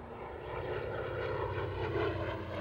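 A Douglas A-1 Skyraider with its 3,350 cubic inch 18-cylinder radial engine running: a steady, rich, low rumbling drone with layered tones, moderately distant and even in loudness throughout, with no voices.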